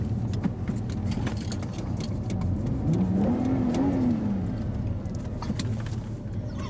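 A car drives slowly through a 30 km/h zone, its engine humming steadily up close with one gentle rise and fall in revs midway, heard from inside the vehicle.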